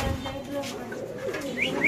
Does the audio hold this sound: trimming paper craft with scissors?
no